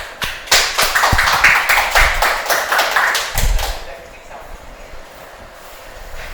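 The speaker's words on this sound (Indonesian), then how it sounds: "Tepuk tangan yuk." A classroom of students clapping together at the end of a lesson, a burst of brisk hand claps lasting a few seconds before dying away into quiet room noise.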